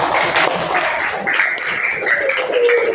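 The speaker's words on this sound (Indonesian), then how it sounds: "Tepuk tangan." A room full of people claps steadily at the close of a classroom learning session, a dense, continuous patter of hands that holds at an even level throughout with a few voices faintly mixed in.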